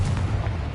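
Explosive Confringo spell in Hogwarts Legacy, a brief heavy booming blast with a deep rumbling low end, loud and close.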